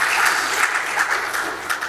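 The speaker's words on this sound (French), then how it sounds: "sous vos applaudissements, bien sûr" Steady applause from a conference audience at an industry morning panel on the water economy, a brisk, fairly loud patter of many hands with no voices over it.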